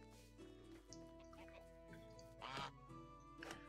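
Geese in a medieval farming game honk and quack around a full goose house, several short calls rising over a steady low hum of game ambience, with louder bursts near the end.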